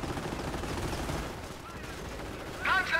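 Gunfire in the video game Company of Heroes as a base comes under attack, with dense overlapping rattling shots in a continuous barrage that thins briefly before a sharper burst near the end.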